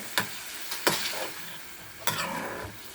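Radish stir-fry with tamarind juice and jaggery is stirred in a pan, with a few sharp scraping strokes of a spoon and a soft sizzle between them, close and alone with no talk.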